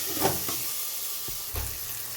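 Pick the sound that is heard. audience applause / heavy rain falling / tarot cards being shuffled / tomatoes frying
tomatoes frying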